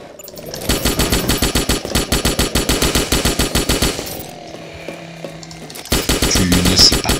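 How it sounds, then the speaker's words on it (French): Machine gun fire in the Starship Troopers video game, long loud bursts of rapid rhythmic shots, a short lull with mechanical clanks, then another burst, no talking. "Oh mon dieu, mais c'est que je me fais tirer dessus"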